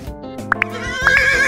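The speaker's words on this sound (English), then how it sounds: "I am in front of a horse." A horse neighs in a close, loud whinny with a couple of sharp high squeals, lasting just over a second and standing alone without talk.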